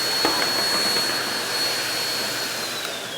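A REDMINUT dog hair dryer blowing on its strong setting gives a steady, loud, continuous whooshing roar with a high whine, alone and unbroken.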